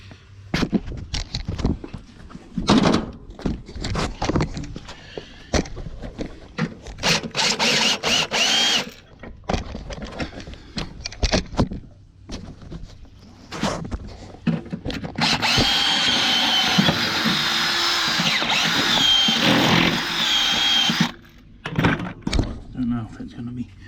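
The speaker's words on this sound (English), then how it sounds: "But what I have to do is drill that hole a little bit bigger." Power drill enlarging a bolt hole on a scrap ride-on lawn mower with a Briggs and Stratton engine, running in several bursts of whirring and grinding, the longest a sustained run near the end, with someone talking in between.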